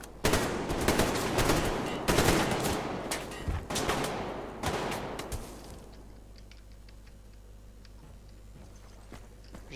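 Gunfire from the first-person shooter game Survarium comes in rapid bursts and single loud cracks over roughly six seconds. The shooting then stops, leaving a quiet background hum with faint scattered clicks.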